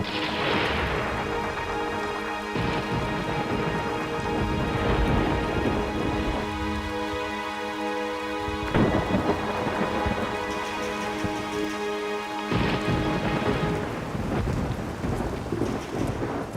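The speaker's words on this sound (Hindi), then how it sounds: "इतनी बारिश।" Heavy rain pours steadily while deep rolls of thunder rumble and crash repeatedly, loud and close throughout.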